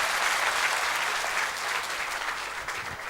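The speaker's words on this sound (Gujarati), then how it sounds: "એકવાર જોરદાર તાળીઓ તમારા માટે." An audience at a motivational talk breaks into sustained applause, a dense even clatter of many hands clapping that holds steady for a few seconds with no voices over it.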